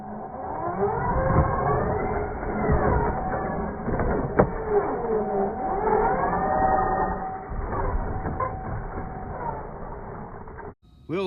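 A brushless carbon-chassis RC car runs in second gear, its motor whining in rising and falling sweeps with gravelly wheel and drivetrain rumble beneath, steady and close for most of the run before a brief dropout near the end.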